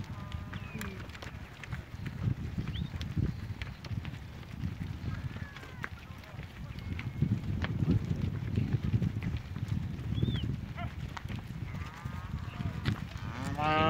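Cows moo several times, some near and some farther off, amid shuffling livestock movement and occasional human voices talking, at a village pasture in Turkey.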